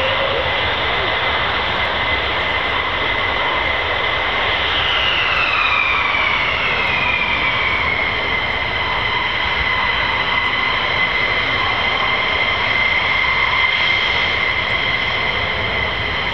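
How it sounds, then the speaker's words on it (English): An aircraft taxis back on the ground with a loud, steady engine whine and drone; a rising then falling tone glides through as engine power shifts, continuous throughout. "they are taxiing back."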